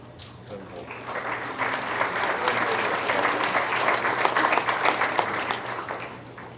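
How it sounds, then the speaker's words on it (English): A crowd applauds continuously at a high school academic awards ceremony, a dense patter of clapping that swells and holds steady, with a low hum beneath. "if you would kindly hold your applause till everybody has come forward, Gabrielle Kordick, Christopher Longstreet"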